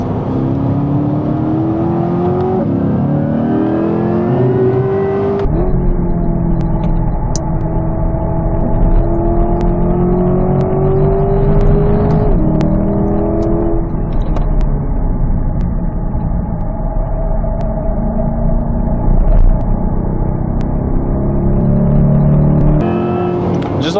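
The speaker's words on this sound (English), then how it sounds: "The engine sound." A 2025 Corvette C8 Z06 engine at full throttle on the Circuit Zolder track, a loud, continuous high-revving howl with rising pitch sweeps through the gears, close and steady for over twenty seconds.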